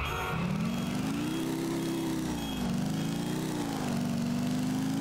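Motorcycle engine in the video game Grand Theft Auto IV, a steady droning hum that rises and falls gently in pitch as the bike cruises slowly, continuous and fairly loud with no talk.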